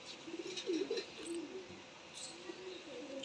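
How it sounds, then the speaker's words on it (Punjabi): Pigeons, including a copper-coloured one, cooing in a series of soft, low, rolling coos at close range over a faint background hiss. "ਆ ਵੀ ਤਾਂਬੇ ਰੰਗਾ ਕਬੂਤਰ ਪਾਕਿਸਤਾਨ ਨੂੰ ਆਇਆ ਹੈ"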